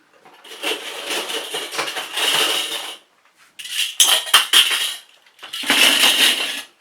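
Large metal clips used for scrapbooking clink and rattle as they are handled, in three bursts of busy metallic jingling, fairly close and with no talk.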